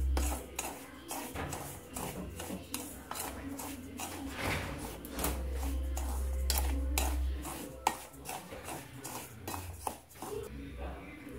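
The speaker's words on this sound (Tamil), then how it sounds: "இது நல்லா வறுத்துக்கலாம்." Semolina (rava) roasting in a pan, stirred with a utensil that scrapes and clinks against the metal in an uneven, continuous rhythm, close and moderately quiet, with a low hum underneath.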